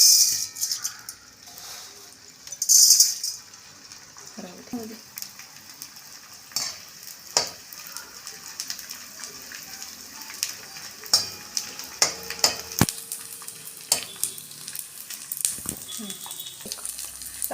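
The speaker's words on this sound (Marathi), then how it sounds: "आता हे तूप छान गरम झालेलं आहे त्यात मी ना डिंक टाकून घेते" Edible gum fries in hot ghee for laddoos with a soft, steady sizzle, with occasional clinks of a spoon and utensils. Someone talks over it.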